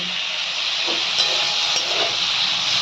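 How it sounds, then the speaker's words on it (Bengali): Boiled shrimp fry in hot oil in a pan, giving a continuous bright sizzle and hiss with small pops, steady and close with no talking. "তাই চিংড়ি মাছটা একটু ভেজে নিই"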